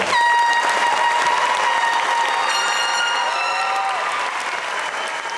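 Loud, sustained applause from a graduation ceremony audience, with whistles or horn-like tones rising above the dense clapping throughout.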